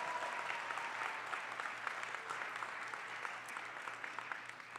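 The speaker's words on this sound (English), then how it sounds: "Let's give them a round of applause." A crowd at an international dance festival show applauds the dancers, sustained dense clapping at a steady level from start to finish, fairly near and continuous.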